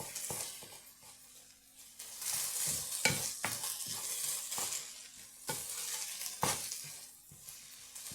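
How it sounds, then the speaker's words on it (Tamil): Kottu roti fries in a pan with a steady sizzle while a utensil stirs and scrapes through it in repeated sharp strokes, close up and continuous. "எல்லாத்தையும் கலந்து விடுவோம்"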